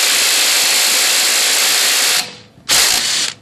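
A cordless impact tool drives a bolt through a socket adapter. A loud, continuous mechanical whirr lasts about two seconds, drops away, then returns in a second shorter burst before stopping.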